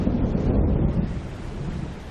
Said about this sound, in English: came the local community's worst nightmare, a Force 10 storm.